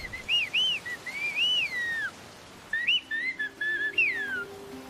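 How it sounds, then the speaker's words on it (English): A person whistles Chinantec speech, a series of gliding, speech-like pitch contours in short phrases, with brief pauses between, over quiet outdoor background in foggy, wet, rugged country. "they can actually whistle conversations and new things."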